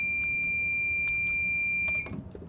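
A steady high electronic alarm tone sounds continuously from a Class 390 Pendolino cab in Train Simulator Classic, loud and unbroken for about two seconds before cutting off, leaving low rumbling ambience.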